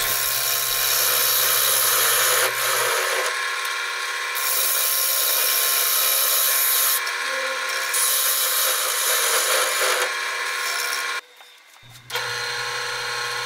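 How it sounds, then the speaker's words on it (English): A 1/4 inch parting tool scrapes into a spinning wooden bowl blank on a lathe, forming a mortise for a chuck; loud rough rasping cuts in several bursts over a steady motor hum, with brief pauses between. "here I'm just using a 1/4 inch parting tool to form the mortise"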